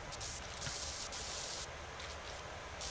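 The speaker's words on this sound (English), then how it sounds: "We're just spraying down a lamp like you do." A pressure washer in PowerWash Simulator 2 sprays down a lamp with a steady hissing jet. The high hiss cuts in and out in short bursts as the spray starts and stops.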